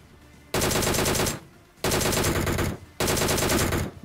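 Gunfire in the battle royale game BGMI comes in three loud, close bursts of rapid automatic fire separated by brief pauses.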